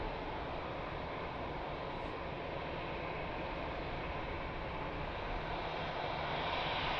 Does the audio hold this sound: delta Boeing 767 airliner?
yes